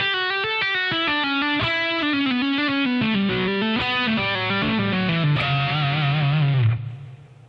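Distorted electric guitar plays a slow legato solo passage, smooth connected notes gliding through a descending line and settling into a held low note that fades out, close and alone.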